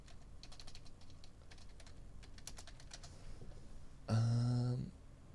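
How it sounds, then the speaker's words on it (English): Quiet, rapid typing on a computer keyboard, a string of light key taps over several seconds followed by a short louder burst of tonal noise near the end; no voices. "If I just type in Larissa, from Marcel"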